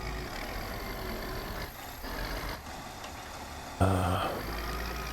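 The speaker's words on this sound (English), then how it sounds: "We'll drop the tractor into the furrow." A tractor engine in Farm Expert 2017 drones steadily at a low idle throughout, with a brief louder mechanical clunk near the end as the implement drops into the furrow.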